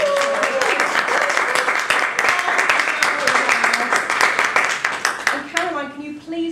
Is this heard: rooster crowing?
no